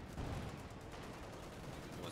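Dense gunfire in the World War II strategy game Company of Heroes 2, a continuous rattle of shots filling the whole moment, with a player's voice talking over it.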